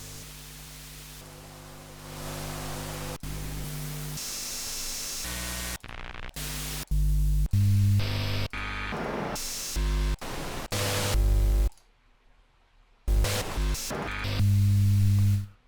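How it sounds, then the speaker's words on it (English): Sampled noise profile of a spring reverb plug-in, turned up, comes through as loud hiss and static that switches abruptly between blocks of different tone, with a brief near-silent gap late on. "So each unit actually has its own noise profile that they sampled as well."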